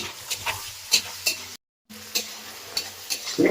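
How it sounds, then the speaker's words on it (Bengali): Onions stirred and frying in a pan for a chicken dish, with soft sizzling under repeated scraping strokes of a spoon, a brief dropout midway, then more stirring. "এবার যাবে পেঁয়াজ একটু লাল লাল হয়ে যাবে"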